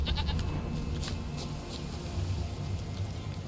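Soft, repeated bleats from a goat in Witcher 3 sit over a rumbling game ambience, fairly faint and spaced out, with no voices.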